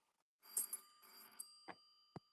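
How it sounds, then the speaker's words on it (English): A house telephone rings in a quiet indoor room, two bursts of bright electronic trilling followed by a pair of short fainter tones, with no talk over it. "which I totally ignore because it's normally on silent. I don't use my house phone."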